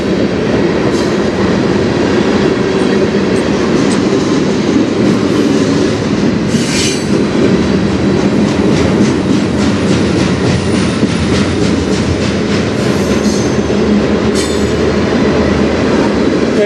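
Freight train rolling past on the Strathroy Subdivision near Sarnia, a loud continuous roar of wheels with rhythmic clickety-clack over rail joints and brief squeals, close and steady throughout.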